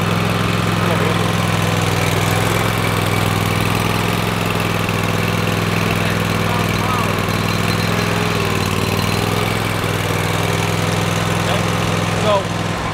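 A walk-behind lawn mower engine runs steadily throughout, a loud, close, continuous drone with a constant low hum.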